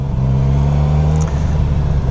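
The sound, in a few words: Suzuki Katana motorcycle engine revving with throttle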